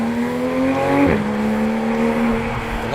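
A 2014 Porsche 911 GT3 engine screaming at full throttle, a loud, close, high-pitched wail that climbs, drops sharply at a gear shift about a second in, then climbs again steadily.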